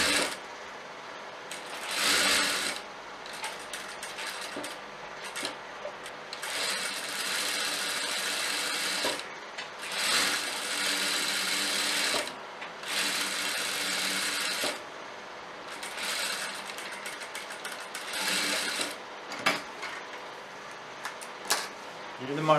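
A sewing machine runs in repeated bursts of rapid mechanical stitching while joining a kurti collar seam with a half-inch allowance, close and moderately loud, separated by short pauses.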